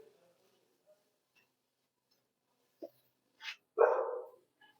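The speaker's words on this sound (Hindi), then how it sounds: "मगर ये कुछ ज्यादा ही तेज भौंक रहा है" A single dog gives a couple of short barks at a distance, followed by a louder bark, in an otherwise quiet setting.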